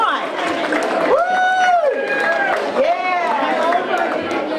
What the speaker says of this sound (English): Show your love, everybody, for Mike. Round of applause.